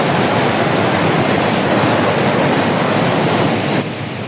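Water pours down steadily at the Pozar thermal baths, a loud, close, continuous rushing roar that eases slightly near the end.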